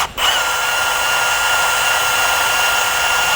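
A power drill spins a 1/4 inch socket on an extension to pre-oil a Ford engine, a loud steady whine that starts abruptly and runs unbroken to the end.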